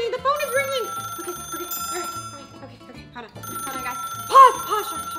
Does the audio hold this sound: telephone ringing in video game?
yes